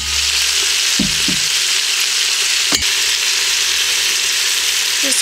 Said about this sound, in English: saute these down until they get kind of translucent is basically what we're going for here.